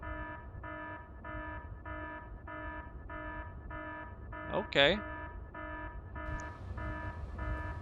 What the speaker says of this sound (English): We have triggered the molybdenum alarm.